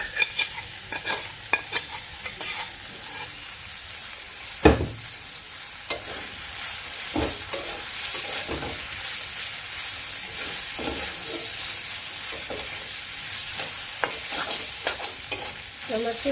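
Fresh puti fish cooks with fried onions in a pan, with a constant hissing sizzle and repeated scraping stirring strokes, including one sharp knock.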